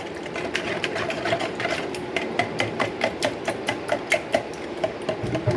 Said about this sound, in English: I have the whisk and you can just whisk it